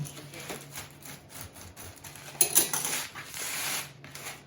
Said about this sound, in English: Use a pizza cutter. You can have a pizza cutter or a knife will do.